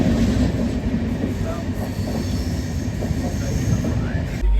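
Continuous rumble and rattle of a moving passenger train on the Pune to Goa route, steady and loud throughout with wheel and carriage noise close by, no talk.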